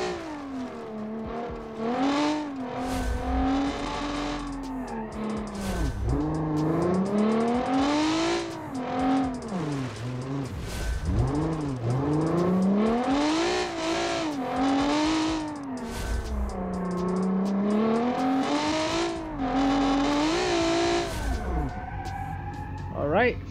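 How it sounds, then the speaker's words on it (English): Rear-wheel drive rally car without ABS sliding on dirt in BeamNG.Drive, its engine revving and wailing up and down continuously through gear changes, loud and close, with voices over it at times. "Rear-wheel drive in BeamNG.Drive on dirt."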